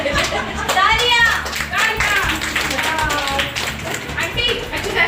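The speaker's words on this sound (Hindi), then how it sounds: "तालियां" Hands clap together in a group of women and children at an NGO awareness session, with sharp taps mixed under steady children's and women's chatter throughout.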